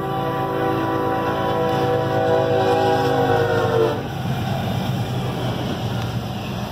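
A westbound CSX Q279 freight train passes at Sanford Road, milepost 388, its loud, steady rumble of wagons carrying several sustained horn tones before the horn cuts off, leaving the rolling rail noise.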